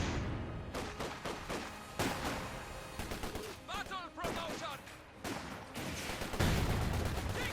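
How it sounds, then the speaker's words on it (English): Gunfire and shelling from a Company of Heroes 2 match, rapid bursts of small-arms fire and heavy impacts crackling densely throughout, with in-game unit voices talking over the battle. "Bit of shooting there."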